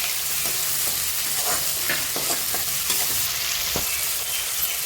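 Crushed green chili and ginger sizzle in a hot tempering for vegetable upma, a loud continuous fry broken by scraping stir strokes, with no talking.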